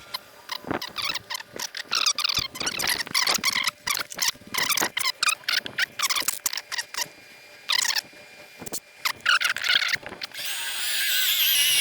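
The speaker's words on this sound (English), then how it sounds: "you just want to make sure that you're just not willy-nilly drilling through" A power drill whirs in repeated short bursts, biting into the metal body of a 2009-or-later Ford F-150 truck, with the motor revving up and stopping between pulls.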